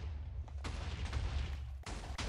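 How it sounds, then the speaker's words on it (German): Explosions go off again and again in a video game from a mod that makes everything explode. Several loud, close bursts follow one after another, with sharp booms and a rumbling low tail between them. "wir können einfach mal Rechtsklick drücken und wir explodieren"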